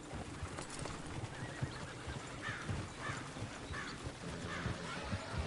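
Horse hooves clip-clop steadily in Red Dead Redemption on PS4, with a few whinnies rising over the rhythmic steps and a busy outdoor ambience.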